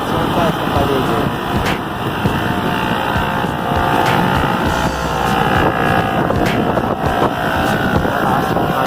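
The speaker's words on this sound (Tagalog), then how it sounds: "Malakas ang kanilang hangin." Strong typhoon wind in Angeles City, Pampanga, Philippines, a steady loud roar with gusty buffeting on the microphone throughout, with a few sharp knocks.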